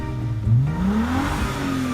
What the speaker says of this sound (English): Or not so good like a straight piped LS500.